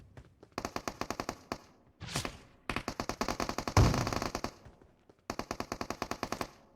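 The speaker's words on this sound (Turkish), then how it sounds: "Bana sıktı biri." Automatic gunfire in PUBG Mobile on the Erangel map, with several loud rapid bursts of shots separated by short pauses and one sharp burst of noise near the middle.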